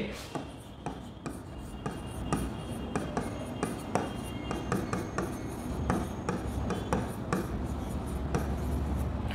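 Chalk or marker writes on a board in a steady series of sharp taps and short scratchy strokes, close and fairly quiet, with faint room noise underneath.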